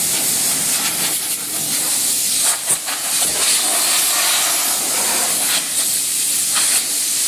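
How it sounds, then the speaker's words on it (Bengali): Loud, steady hiss of compressed air blowing dust out of an Eeco car's interior during a fast service, continuous for several seconds with small bursts and flutters, no talking. "হাওয়া দিয়ে ধুলোগুলো আগে বের করে দিচ্ছে।"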